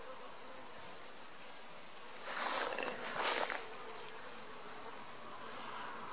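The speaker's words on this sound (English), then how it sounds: "Hear the bees?" Bees buzz around blooming milkweed beside a corn field in Minnesota, a soft outdoor drone with a louder close pass in the middle and several brief insect chirps.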